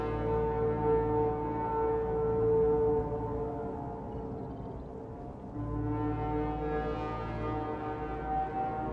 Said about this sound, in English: It's a giant foghorn.